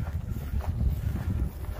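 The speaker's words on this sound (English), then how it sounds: "Here comes the wind." Wind gusts sweep across a radio-controlled model airfield runway, a steady low rumbling buffet against the microphone with no other clear sounds.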